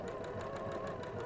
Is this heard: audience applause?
no